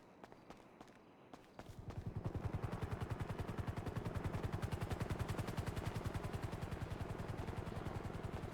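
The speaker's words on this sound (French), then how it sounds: "Ils sont partis en hélico" Helicopter in the GTA video game, its rotor thumping in a steady rapid pulse that starts abruptly after a couple of seconds of quieter background and stays loud and continuous to the end, with no talk.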